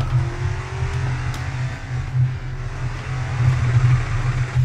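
A heavy racing truck engine in GRID Autosport drones and revs steadily, rising and falling in pitch with a low throaty hum throughout, loud and near.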